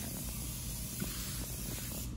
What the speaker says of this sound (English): And so first we spray.